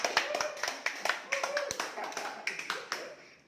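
An audience at an Indonesian motivational talk claps in a quick, scattered patter that fades toward the end, with faint speech mixed in.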